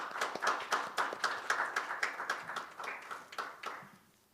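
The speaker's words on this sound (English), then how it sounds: "Please welcome him with a big round of applause." At a partnership seminar, an audience applauds in a moderate round of clapping that rises and falls in quick bursts across several seconds, heard without speech.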